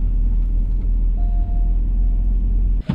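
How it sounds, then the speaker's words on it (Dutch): A car with a nearly flat front tyre pulls away, its engine and road noise a steady low rumble, loud and close from inside the cabin, with a brief thump near the end and no talking. "Voilà, klaar in de auto. We gaan vertrekken."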